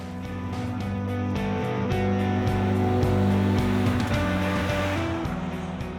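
A 2017 Ford Explorer with the EcoBoost twin-turbo V6 accelerating hard, a steady loud engine drone rising in pitch through the gears, alone with no talking.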